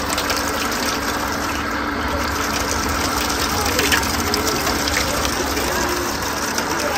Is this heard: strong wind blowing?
no